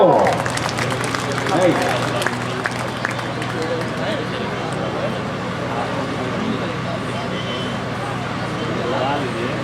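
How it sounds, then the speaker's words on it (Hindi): Children applaud loudly and steadily at an indoor awards event, a dense continuous clapping that fills the whole stretch, with a babble of young voices and crowd noise mixed in. "जोरदार तालियां होनी चाहिए प्यारे बच्चों।"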